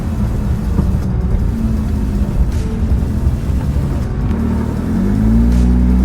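A Porsche 991.2 GT3 RS drives slowly along a road, a loud, steady engine and road drone from inside the cabin that rises slightly near the end as the car accelerates.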